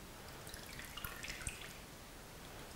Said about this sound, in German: damit es eben nicht immer ins Wasser tropft